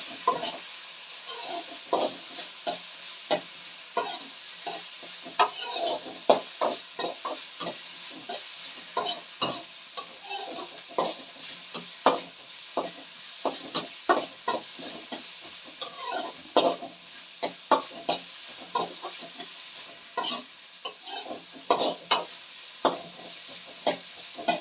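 Ginger garlic paste fries in a pan while being stirred, giving a soft steady sizzle with frequent sharp spoon scrapes and taps throughout.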